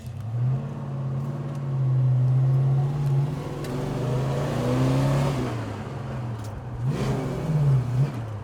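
A 1968 Plymouth Road Runner drives along with a steady, deep engine drone that rises and falls as it accelerates and shifts, heard from inside the car with no talk.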